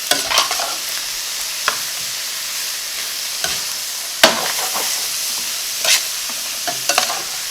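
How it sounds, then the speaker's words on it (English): Chicken fried rice with vegetables stir-fried in a hot pan, giving a steady bright sizzle with occasional sharp clanks and scrapes of the spatula, loud and close. "And then I'm going to stir fry everything for 2 minutes."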